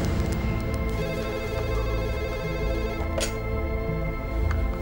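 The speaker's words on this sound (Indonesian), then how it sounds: "Aku coba telepon rumah." A telephone rings with repeated electronic tones while someone calls home, a steady tone pattern sitting over a constant background hum at moderate loudness, with no speech.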